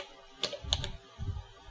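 Short burst of keystrokes on a computer keyboard, a few quick clicks in a cluster followed by a brief pause and another soft tap, close and fairly quiet with no voice.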